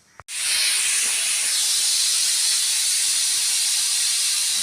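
A pressure cooker on a stove with mutton and lady finger curry inside lets off its whistle, a loud, sustained hiss of escaping steam that bursts in after a short click and holds steady to the end.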